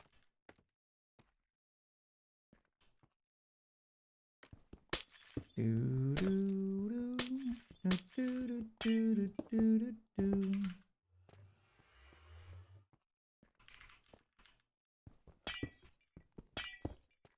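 Glass panes breaking in a building video game, a quick run of sharp crashing shatters with bright clinks, several bursts in succession and then scattered tinkling, alone without talk.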